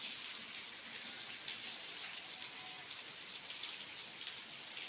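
Steady rain pours down under a heavily overcast sky over green surroundings, a continuous even hiss with faint scattered drop ticks and no voices.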